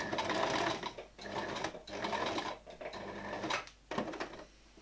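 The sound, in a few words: sewing machine stitching a shirt sleeve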